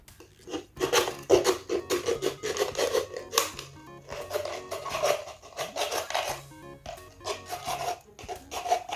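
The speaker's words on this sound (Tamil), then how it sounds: "இந்த இதில் சர்க்கிள் சர்க்கிளாக இப்போ கட் பண்ண போகிறோம்" Scissors cut circles from a plastic water bottle for floating lamps, giving rapid close crinkling, rasping snips and plastic rubbing in a dense uneven rhythm throughout.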